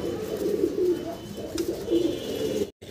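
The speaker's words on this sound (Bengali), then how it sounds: "সিরাজি ভাই, সিরাজি কবুতর।" Sirazi fancy pigeons coo in low, throaty, repeated rolls close by, with soft background noise and a brief dropout near the end.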